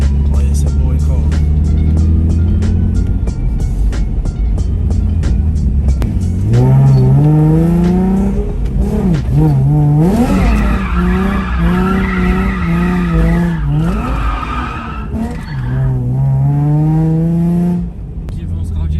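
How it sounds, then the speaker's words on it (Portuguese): Cars roar past on the road near a Nissan 350Z, with screeching tire squeals and revving engines rising and falling in pitch as they race by, loud and close, with a voice heard briefly. "Aqui vem uns carros direto, tava vendo."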